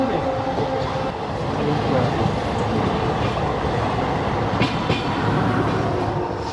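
Padatik Express train running as it approaches Kishanganj station, a steady close rumble of wheels and carriage noise throughout with faint clatter, heard from inside the coach.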